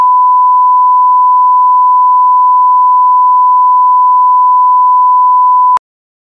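A single steady electronic tone holds unbroken for several seconds, loud and clean, then cuts off abruptly with a click.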